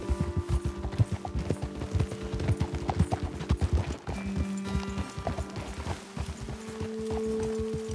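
Horse hooves clop in a steady, rapid walking rhythm across ground in Red Dead Redemption 2, close and fairly loud, with a brief lull near the middle before the hoofbeats continue.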